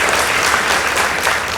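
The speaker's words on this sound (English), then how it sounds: "let's give a round of applause for Kathiani Boys High School" An audience at a boys' high school debate bursts into loud, sustained applause celebrating a winning team, a dense crowd clapping without talk.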